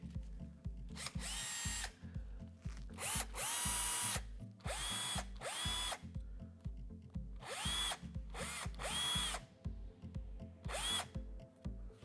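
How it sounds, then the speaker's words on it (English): Bosch 12V cordless impact driver with a brushed lithium-ion motor whirs in several short, loud bursts of about a second each, separated by pauses over a steady low hum, with no talking. "warming up to drive the 12-volt motor in this impact driver"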